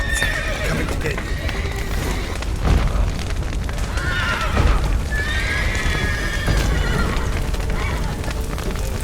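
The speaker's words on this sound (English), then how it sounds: "The horses!" Horses in The Witcher 3 whinny and neigh several times over clip-clopping hooves amid a busy game scene after a collapsing roof, with calls sounding at intervals against a steady background rumble.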